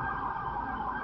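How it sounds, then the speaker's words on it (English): A police or ambulance siren wails steadily and loudly throughout a short stretch, with no speech. "Hear a siren. Police siren or a paramedic."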